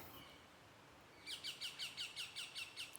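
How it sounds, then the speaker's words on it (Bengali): Birds call among trees, a quick series of about nine evenly spaced, bright chirps following a quiet stretch of soft outdoor ambience. "এই যে পাখির ডাক,"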